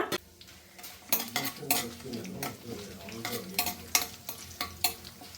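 Dry red chillies and cashews frying in oil for a chicken curry, with a bright crackling sizzle broken by repeated sharp metal clinks and scrapes of a spoon against the pan, close and busy.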